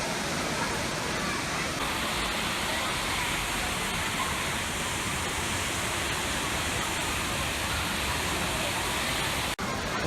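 Rushing waterfall at Looking Glass, a dense constant roar of falling water heard up close and loud throughout, with a brief dropout near the end.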